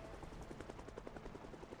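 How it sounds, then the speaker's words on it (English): A helicopter arriving in the Project Zomboid survival game, a steady faint thudding of rotor blades that stays level throughout with no other sounds. "The second helicopter's here."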